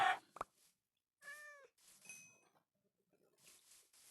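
A video game cat gives short meows with rising-falling harmonics, a few in quick succession, clear and close, between bursts of other game noises and clicks.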